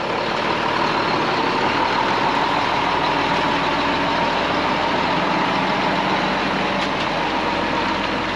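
A semi truck pulling a trailer runs with a steady, heavy diesel rumble, loud and close for the whole stretch, with no voices.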